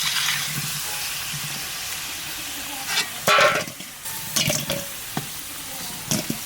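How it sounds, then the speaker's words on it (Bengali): Potatoes fry in oil left over from frying fish in a home kitchen, giving a steady close sizzle broken by several sharp clinks and scrapes of a utensil stirring the pan. "মাছ ভাজা তেলের মধ্যে আলুগুলো ভেজে নেবো"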